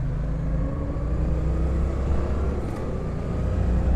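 Motorcycle engine pulling at low revs during a road test ride, a steady deep rumble mixed with road and wind noise, continuous and close.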